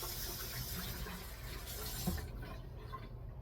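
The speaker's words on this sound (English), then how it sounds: "I'm gonna give my hands a quick wash" Tap water running steadily into a sink while hands are washed, a constant soft hiss and splash with no talking.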